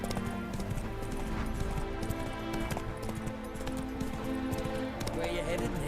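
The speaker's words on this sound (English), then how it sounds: "Con este caballo puedo ganar cualquier carrera" Horse galloping in The Witcher III, a steady rapid clip-clop of hooves under continuous game music and ambience, with someone speaking over it.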